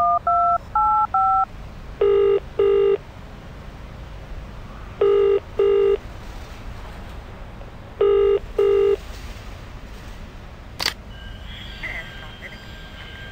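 A superhero dials a number on a payphone: a run of loud, clear touch-tone beeps comes in three quick bursts separated by pauses, then a sharp click and a faint line tone over a low room hiss.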